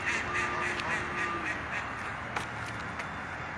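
Waterbirds on Lake Ewauna calling in a busy flock, with scattered quacks and honks over a steady outdoor wash, fairly near and moderately loud.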